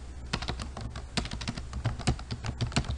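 Rapid keystrokes on a computer keyboard as HTML code for a Bootstrap container layout is typed, an irregular burst of close, crisp clicks with no talking.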